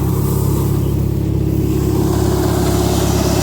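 Sonalika 750 tractor engine running steadily in second gear while powering a cutter threshing lentils, a loud, constant low rumble with a mechanical hum and no talk.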